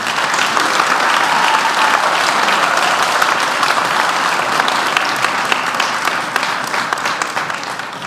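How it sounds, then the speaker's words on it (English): Sustained audience applause fills a high school honors night ceremony, dense steady clapping from a large crowd that holds strong throughout and tapers only slightly near the end. "Now you can applaud."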